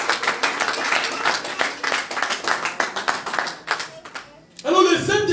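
A church congregation in Brussels claps together, dense rhythmic applause close and loud for several seconds before fading, then a voice speaks.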